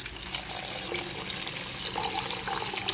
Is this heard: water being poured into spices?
yes